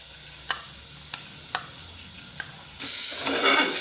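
Moong dal roasting in ghee in a pan gives a steady close sizzle, broken by a few soft spoon clicks, then swells into a louder, brighter hiss as it is stirred.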